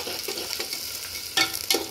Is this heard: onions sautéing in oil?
yes